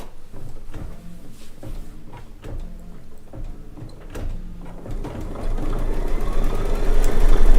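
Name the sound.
embroidery sewing machine stitching a tack down stitch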